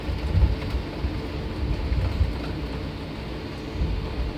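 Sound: rain in the video game Minecraft

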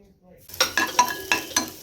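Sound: potato and cauliflower frying with nigella seeds and green chilli

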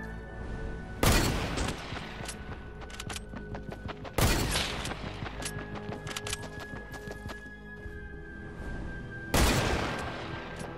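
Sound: gunfire in the video game Fortnite

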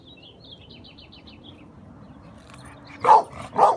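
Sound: dog barking

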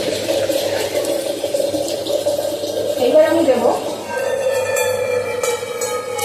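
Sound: pouring water into rice for biryani

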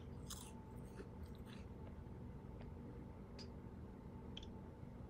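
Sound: eating cereal, chewing and crunching, in Roblox Bloxburg roleplay

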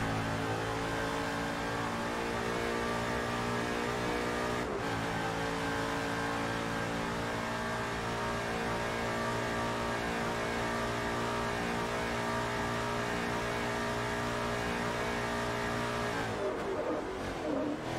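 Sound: race car engine in Forza Motorsport 3 video game

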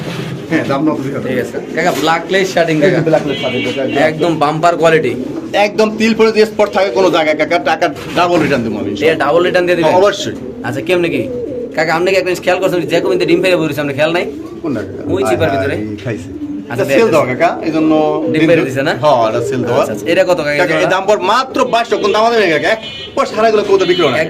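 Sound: pigeons cooing

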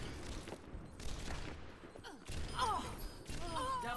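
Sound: gunshots in a video game

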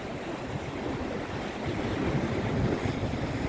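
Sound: sea waves at Maremonte beach

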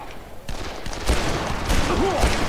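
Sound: gunfire from a weapon in video game Dead Island

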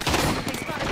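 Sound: gunfire in video game Apex Legends

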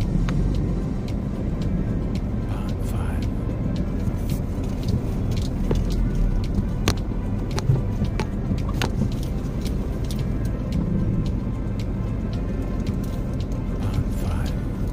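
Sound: car being driven into a parking spot

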